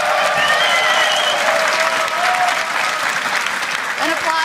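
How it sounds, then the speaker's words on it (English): Audience applause rings out in an esports arena for the League of Legends EU LCS Spring Split champions Fnatic, a dense, steady roar of clapping and crowd noise for the whole stretch, with a voice faintly audible beneath. "An applause is in order for these guys"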